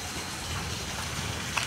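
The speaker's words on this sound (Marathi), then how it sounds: "नॉर्मल पाऊस पडतोय अजून पण" Light rain still falling outdoors on a morning after a heavy overnight downpour, a soft, steady hiss of drizzle with no voices.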